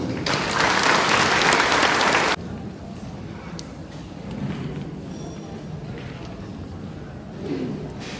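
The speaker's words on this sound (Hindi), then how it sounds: "सब ताली बजाएगा।" Guests at an Apatani and Naga wedding ceremony in Ziro break into loud applause for about two seconds, then it cuts off to a quieter room with faint murmuring and shuffling.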